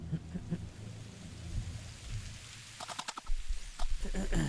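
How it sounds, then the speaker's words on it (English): Light drizzling rain patters steadily through a horror video game scene, a soft continuous hiss with faint scattered drops and a few sharper ticks near the end, fairly quiet throughout. "A drizzling rain has replaced the chilly autumn wind."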